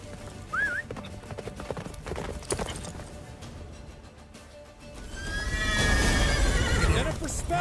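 Roach, the horse in The Witcher 3, gallops with rhythmic hoof clip-clops. A whinny comes near the start and the hooves grow louder toward the end, under game dialogue and a player's voice.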